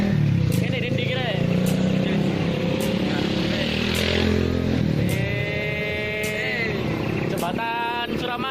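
Motorcycles pass in steady traffic on the Suramadu bridge, a continuous engine drone with rising and falling revs as bikes go by, while people talk over it throughout.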